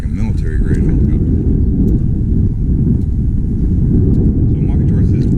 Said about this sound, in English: This sounds like a military grade helicopter.